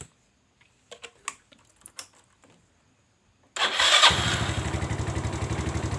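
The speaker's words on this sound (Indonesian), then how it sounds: "setelah terpasang kita hidupkan mesin kembali" Several sharp mechanical clicks and taps sound first on a Yamaha Mio scooter under electrical repair for a weak battery. Then the engine starts abruptly and settles into a loud, steady, pulsing idle.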